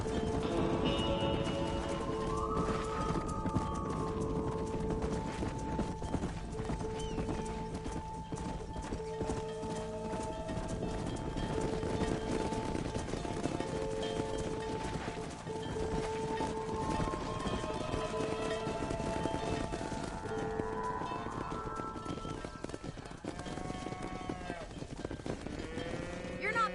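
Galloping horses and a moving cattle herd on a ranch in Red Dead Redemption, with steady, continuous hoofbeats, occasional whinnies and lowing calls over a dense outdoor bed, and voices talking throughout.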